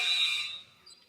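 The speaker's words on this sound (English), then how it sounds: "And I don't know why that buzzer went off." A basketball game clock buzzer sounds during a Sunday league double-header, a loud sustained electronic tone that cuts off after about half a second, leaving faint gym ambience.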